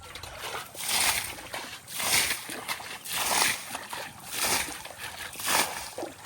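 Water is bailed out of a shallow riverside pool to catch fish, making repeated close splashes and sloshes in a steady rhythm about once a second, with faint voices in the background.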